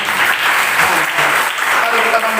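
A church congregation claps steadily after a Christian sermon, a dense, continuous wash of applause filling the room, with a few voices faintly audible underneath.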